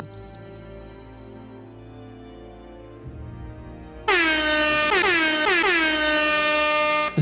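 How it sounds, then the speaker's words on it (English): A loud air horn blasts in a few repeated bursts after a quieter stretch of low background hum. "That's right, I have air horns."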